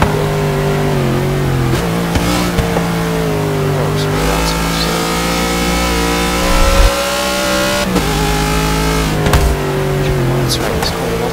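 A Cadillac limo with all-wheel drive in the racing game Forza 6 accelerates hard, its loud engine droning steadily and rising in pitch through gear changes, with a few clicks and bumps over the constant roar.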